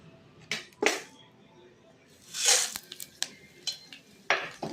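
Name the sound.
mustard seeds, cumin, pepper spluttering in hot oil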